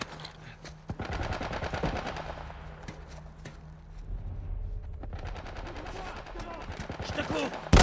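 A military turret machine gun fires in The Last of Us, long rapid bursts of rattling shots with heavy low thuds, moderately near, with voices talking underneath.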